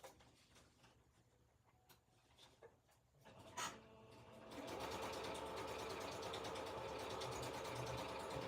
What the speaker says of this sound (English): I'm going to do a quick stitch right across the top